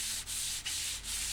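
A laminated through-neck guitar neck blank being sanded by hand: loud, even rasping strokes, about four in a row, each separated by a brief pause as the sander reverses, close up with no talking.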